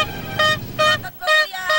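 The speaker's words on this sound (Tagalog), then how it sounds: "May mga air horn na sa lakas na tunog, kayang tapatan ang busina ng jeep o kahit pangaraw ng bus." Handheld air horn noisemakers (torotot) for New Year's Eve, sold at Divisoria market, sound in four loud, steady blasts of about a third of a second each, with short gaps between them.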